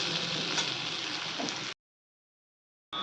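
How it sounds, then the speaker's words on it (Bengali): Bitter gourd and potato pieces sizzle and crackle steadily in a hot pan of oil, a close, continuous frying hiss that cuts off abruptly into silence before briefly resuming. "এদিকে এই যে উচ্ছে আলু ভাজা হচ্ছে"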